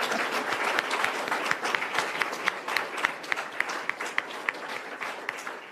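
Audience applause during a government funding announcement at the University of Calgary, a steady moderate patter of many hands with some sharp individual claps popping out clearly above the crowd.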